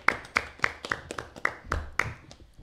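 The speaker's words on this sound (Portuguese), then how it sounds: "Uma salva de palmas" A round of applause at a comedy talk show, sparse and near: a handful of sharp individual claps land in an uneven rhythm, roughly eight distinct hits before fading out.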